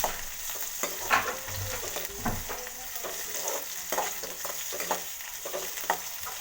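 Two small chopped onions fry in hot oil for a soybean gravy, giving a steady, close crackling sizzle with scattered sharp pops and stirring clicks throughout, and no voices.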